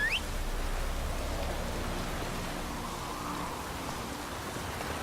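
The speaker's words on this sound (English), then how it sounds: "Don't stop raining, my arse will rot off." Steady, even rainfall hisses throughout a scene in the video game The Witcher 3: Wild Hunt, a dense uniform wash of drops with no voices.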